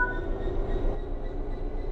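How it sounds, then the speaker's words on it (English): A locomotive in the Train Sim World 5 video game pulls away under throttle, giving a steady low rumble and mechanical drone that carries on evenly throughout. "Apply some throttle to get the train moving."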